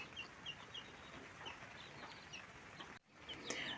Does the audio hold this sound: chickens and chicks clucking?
yes